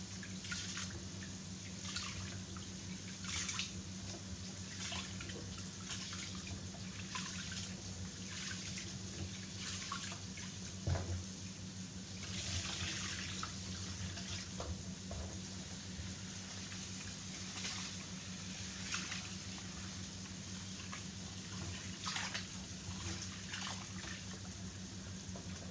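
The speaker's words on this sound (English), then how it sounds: "To get the starch out. I like to wash my rice." Rice being washed under a running kitchen tap to rinse out the starch, a steady close trickle of water with soft drips and splashes, continuous and fairly quiet, no talking.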